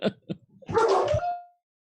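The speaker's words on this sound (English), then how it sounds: "And there goes the dogs" Dogs bark in a few quick, quiet yaps, then let out one longer, louder bark that trails off, all fairly distant and with no talking.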